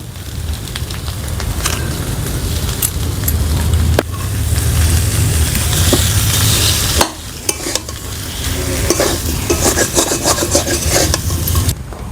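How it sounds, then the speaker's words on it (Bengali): Potatoes being stirred and mixed with spices and salt in a pan, making a loud continuous scraping and rubbing sound close by. A faint sizzle sits underneath, with brief pauses and clicks of the utensil. "খুব ভালো করে মশলার সাথে মিশিয়ে নেবো আলুগুলো"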